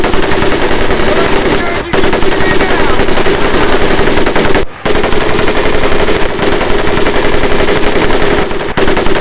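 Mounted machine gun firing on a training range in Medal of Honor: Pacific Assault, loud sustained rapid bursts with only brief pauses, continuous and close throughout.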